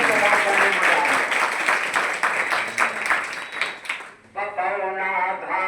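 An audience at a Hindi poetry recital claps along in rhythm, with even, regular beats that are loud and close for about four seconds before the clapping fades and a voice carries on speaking.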